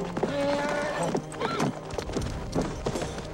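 Horse hooves clip-clop on the ground while the horse neighs and whinnies in a Western film scene, close and fairly loud, with brief sounds of movement mixed in.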